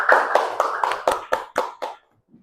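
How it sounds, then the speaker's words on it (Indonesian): Group applause at the end of a classroom lesson, a short run of about eight loud, rhythmic claps in unison that stop abruptly, followed by a faint sound. "tepuk tangan untuk kita semua"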